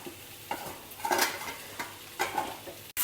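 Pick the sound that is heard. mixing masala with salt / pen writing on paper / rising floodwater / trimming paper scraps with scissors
mixing masala with salt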